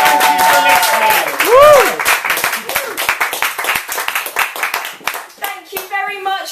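A crowd claps and applauds loudly, with the clapping swelling and then thinning out, a few voices and whoops mixed in.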